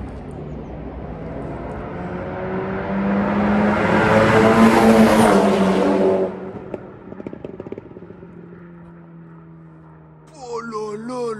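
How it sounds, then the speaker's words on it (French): An Audi car makes a loud, strange mechanical roar that swells for several seconds, then cuts to a lower rumble with clattering, before a voice speaks near the end. "la voiture elle fait un bruit, mais c'est terrible"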